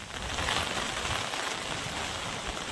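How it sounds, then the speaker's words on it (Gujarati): Steady heavy rain hisses without pause, dense and close. It falls outdoors on a farm in strong wind, and no voices are heard. "ચાલુ ને ચાલુ જ છે વરસાદ"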